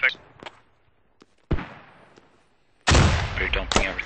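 Mortar rounds fire in a video game, each a sharp booming report: a faint one near the start, a louder one at mid-clip and a heavy, sustained blast near the end, with quiet gaps between them.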